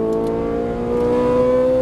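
Ferrari 458 Italia engine at Exotics Racing in Las Vegas accelerates on the track, a loud in-car whine with climbing harmonic tones held for a couple of seconds, no talk.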